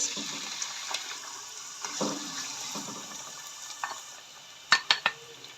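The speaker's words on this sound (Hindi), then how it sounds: "ऑयल गर्म होगा तो मैं इसमें प्याज शामिल करूँगी।" Onions sizzle and crackle in hot oil for a chicken and green beans dish, with some stirring and a few sharp clinks near the end.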